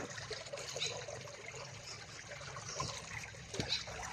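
Water trickles in steadily during feeding of pet mud crabs, a faint continuous splashing and dribbling with a few slightly louder spurts.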